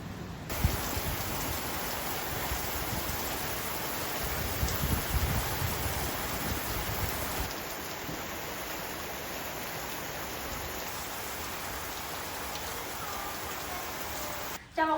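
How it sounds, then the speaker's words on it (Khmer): Rain falls steadily outdoors as a dense, even hiss, softening a little halfway through and then cutting off abruptly near the end. "ឥឡូវភ្លៀងទៅមកទៀតហើយ"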